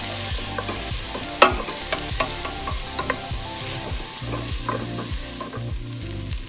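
Onions fry and caramelize in a pan for vegetable soup, a steady close sizzle broken by repeated scraping stirs from a utensil, with no talking.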